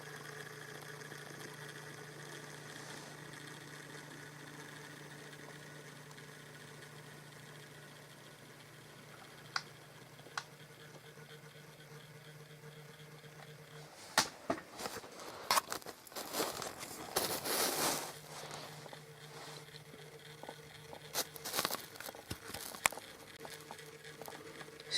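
A Hornby Flying Scotsman model locomotive crawls very slowly under DCC control, giving a faint steady motor hum and tone that break into scattered small ticks and rattles midway before the hum returns.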